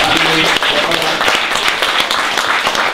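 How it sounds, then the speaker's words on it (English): An audience at an interview event applauding, a dense continuous wash of clapping that fills the room, with some voices mixed in. "Please round of applause for Gerard."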